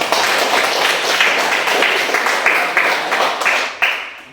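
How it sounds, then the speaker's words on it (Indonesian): Students in a classroom clap together, a short burst of close, fairly loud applause lasting a few seconds with individual claps standing out toward the end. "Tepuk tangan untuk."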